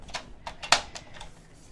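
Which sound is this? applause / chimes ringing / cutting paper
cutting paper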